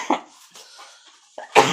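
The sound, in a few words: woman coughing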